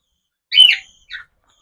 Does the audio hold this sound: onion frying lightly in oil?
no